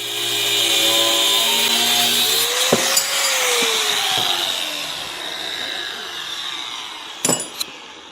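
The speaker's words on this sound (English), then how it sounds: "I'm going to cut it off" A power tool cuts through a metal battery-relocation fitting during an LS swap, a steady close grinding whine running for most of the stretch, then fading, with a couple of sharp metallic clicks near the end.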